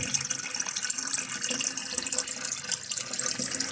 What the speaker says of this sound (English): It's a a faulty one, look, watch. And the water doesn't stop.